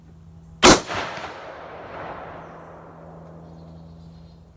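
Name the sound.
heavy 1917 Enfield rifle in 25-06 Ackley Improved firing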